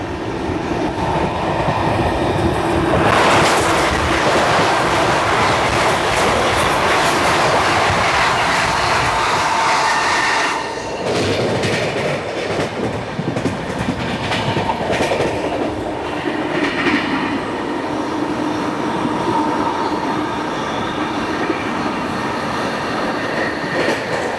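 Vidarbha Express passenger train running between Gondia and Mumbai, with a loud, steady rumble and clattering wheels, then a roaring rush and rattle as it crosses the Tapovan Express on the adjacent track.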